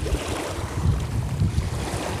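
Choppy, strongly agitated water at the Jati reservoir in Ceará, waves sloshing and surging in an uneven rhythm under gusting wind buffeting the microphone, close and fairly loud, with no talk.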